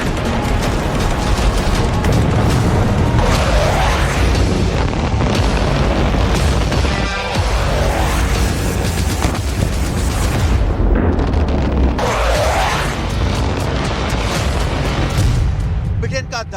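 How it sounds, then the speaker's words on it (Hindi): Loud, dense blasts and booming impacts from Storm Shadow cruise missile strikes, with repeated rolling explosions over a continuous roar across the whole stretch, and talk layered over the top. "जरा देखिए कैसी है ब्रिटेन की स्टॉर्म शैडो मिसाइल।"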